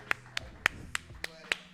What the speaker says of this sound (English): Round of applause for Ryan, everybody.